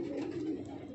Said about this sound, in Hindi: ये सारी की सारी प्योर बलवाई कबूतर हैं